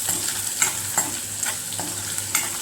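Ginger garlic paste sizzles in a hot frying pan while being stirred, a steady close crackling hiss with soft scraping strokes recurring every half second or so, with no talking.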